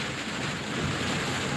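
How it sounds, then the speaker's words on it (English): Steady rain falls in warm weather as a dense, even hiss with no pauses and no voices. "It's raining but very warm."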